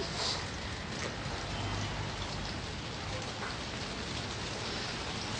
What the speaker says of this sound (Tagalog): Oh my gosh, umuulan.